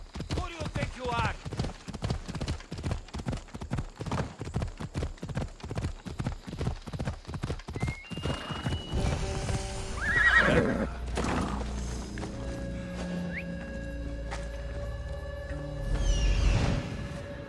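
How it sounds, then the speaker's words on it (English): Horse hooves clip-clop in a rapid steady rhythm in the Assassin's Creed Odyssey video game, then stop, followed by a loud whinny and a second neigh amid game ambience and a voice speaking. "Looks like a sturdy horse."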